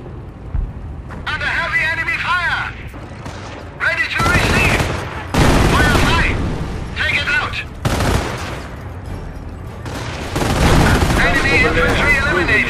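Mortar rounds and gunfire on a World War II battlefield in the game Company of Heroes: repeated heavy blasts and volleys of shots, loud and dense, mixed with shouted unit voices and radio chatter throughout.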